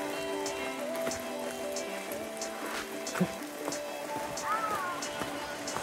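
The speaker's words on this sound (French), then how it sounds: "Ah non, il pleut." Rain falling in Costa Rica, a steady patter of drops on surfaces with faint tonal background sounds, moderately quiet and continuous.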